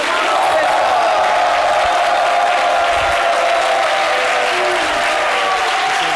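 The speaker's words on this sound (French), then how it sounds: "Madame Conan et de Monsieur Boubéry, que je vous demande d'applaudir" A television studio audience applauds guests being welcomed onto the set, dense steady clapping with some cheering throughout, loud and continuous.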